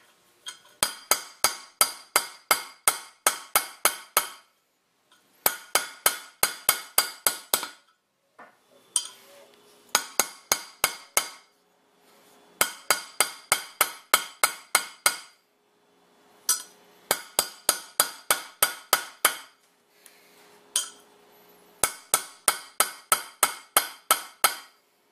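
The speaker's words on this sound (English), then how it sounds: "And drift punch and hammer." Bursts of rapid sharp metallic hammer strikes on an old bearing race used as a punch to seat a trailer wheel bearing, about ten quick blows per burst, repeated in several rounds with short pauses between, loud and close.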